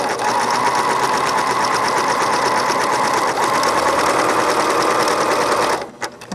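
A sewing machine runs a zigzag stitch along a fabric seam edge, its needle hammering in a fast, even, close-up rattle for about six seconds before stopping abruptly.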